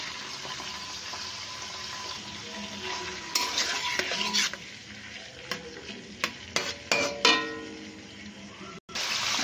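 Thin-sliced chicken and peeled shrimp fry in a pan for a homemade mixed chow mein, a steady sizzle that grows louder as the pieces go in, followed by several sharp clanks and scrapes of stirring.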